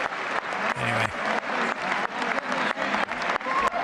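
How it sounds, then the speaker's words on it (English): Applause from lawmakers in the chamber of Congress for President Trump, steady broadband clapping with rhythmic surges over about four seconds, a few faint voices mixed in. "Everybody's clapping."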